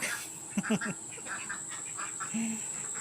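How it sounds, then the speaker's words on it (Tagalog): Domestic ducks quack in short nasal bursts at moderate distance over a steady background hiss, several calls clustered then one more a little later. "Quack quack quack, quack quack quack. Ayan sila."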